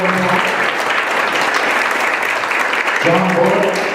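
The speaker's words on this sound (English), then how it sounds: "You want to give them a round of applause?" Audience applause for a panel of city council candidates at a local mayoral and council debate in Redmond, a steady sustained round of clapping filling the room, with a voice briefly speaking over it near the start and end.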